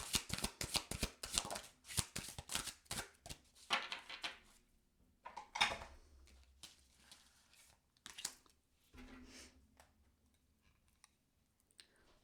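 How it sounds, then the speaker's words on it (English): A Shadow and Light Oracle card deck is shuffled close by, starting with a fast run of crisp riffling flicks, then slower scattered card slides and taps that fade toward quiet near the end. "Let's get our last card here from the Shadow Light Oracle deck"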